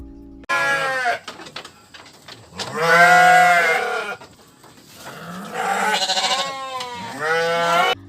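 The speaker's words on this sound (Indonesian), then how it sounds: "Ketika Dina lewat, kambing itu berbunyi." A goat bleats several times, loud and close, each cry a wavering, nasal call of a second or so with quiet gaps between, standing alone with no other sounds.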